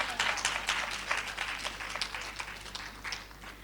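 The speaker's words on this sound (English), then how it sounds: "I want you to applaud me for that one." Audience applause at a women's awards ceremony, a dense patter of many hands clapping that swells early and slowly thins out over a few seconds, heard from a distance with no talk.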